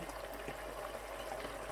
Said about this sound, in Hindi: जब इस तरीके से तमाम चीज़ें उबलनी शुरू हो जाएं